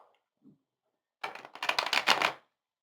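A quick riffling burst of tarot cards being shuffled, a dense flurry of papery flicks lasting about a second in a quiet room.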